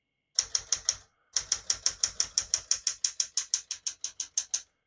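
Keys clack on a 1968 Smith-Corona Super Sterling portable typewriter in a fast, even rhythm: a short burst of strikes, a brief pause, then a long steady run of crisp, close hits.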